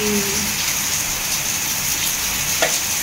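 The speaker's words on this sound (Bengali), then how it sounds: "কি বৃষ্টি দেখো" Heavy rain falls outside a house on a windy, darkened day, a steady dense hiss with no spoken words; one brief tap stands out near the end.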